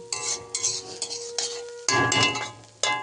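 Peas being stirred into chow mein in a frying pan, with repeated scraping strokes of a spatula over a steady sizzle, close and fairly loud, no talk.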